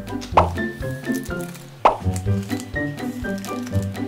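Hydrogel beads pour out in a series of wet plops and squishes, with two sharper splats among many smaller soft drops close by.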